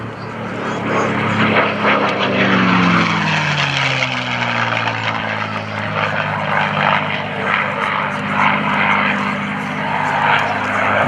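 A P-51 Mustang fighter plane roars past at an air show, its propeller engine a loud, sustained drone that swells and shifts pitch as it passes, with faint voices underneath.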